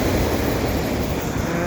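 A CP mixed freight train rolls past at Dorval in winter, a loud steady rumble of wagons with a continuous broad roar throughout.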